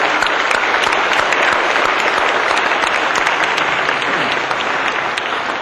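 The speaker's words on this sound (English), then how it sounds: "please stand along with Chairman Graham so we can give him a round of applause, please do, so we can thank you guys for the work that you guys do" Sustained, dense applause from a large audience at a Holocaust Day of Remembrance event, steady and loud throughout, with no voices standing out.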